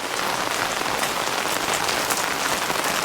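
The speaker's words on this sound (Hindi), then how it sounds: "उस साइड तो ऐसी भयंकर हो गई है बारिश" Heavy rain pours steadily in the mountains near Mukteshwar, a dense continuous hiss of drops striking surfaces, loud and close with no talking.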